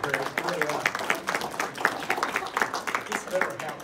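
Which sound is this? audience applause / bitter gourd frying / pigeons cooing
audience applause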